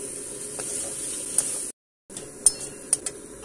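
Soya chunks and boiled potatoes clatter in a pan of spice masala as a spoon stirs them, with sharp metal taps and scrapes over a low sizzle, broken by a brief silent gap.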